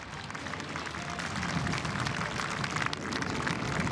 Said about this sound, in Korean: 여러분, 웅장한 기동을 선보인 조종사들에게 힘찬 격려의 박수로 성원해 주시기 바랍니다.